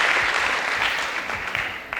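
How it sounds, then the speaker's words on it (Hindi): Audience applause welcoming guests at an event honouring a Dalit journalist and editor, steady dense clapping from a crowd close by that holds for the full two seconds. "एक बार सबको ताली बजाकर सबका स्वागत करिए"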